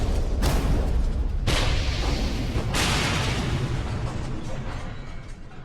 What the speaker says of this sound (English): you can unleash a salvo of torpedoes from their storage rack while Hitler is standing right in front of them